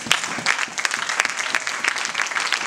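A congregation at a church seminar gathering in Switzerland claps loudly and continuously, dense applause filling the room with no pauses.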